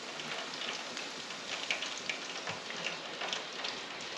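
Chicken wings begin frying in a fryer basket, giving a steady soft crackle and hiss with scattered small pops, faint and unbroken, no voices.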